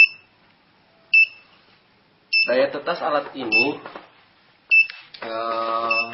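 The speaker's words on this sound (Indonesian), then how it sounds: "kelembaban di bawah rata-rata yang kita setting, sehingga alarm berbunyi" Egg incubator humidity alarm set off by low humidity, sounding short bursts of high beeps with a sustained beeping tone near the end, and someone talking between the beeps.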